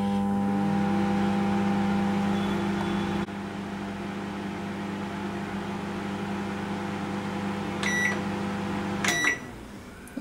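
A microwave oven hums steadily while cooking boiled rice, its drone dropping slightly partway through, followed by a few short electronic beeps near the end and a brief clatter as it stops.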